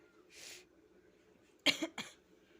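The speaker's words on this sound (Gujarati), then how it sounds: "સોરી હજુ ખાંસી મટી નથી મને" A soft breath followed by two sharp, close coughs in quick succession, then quiet.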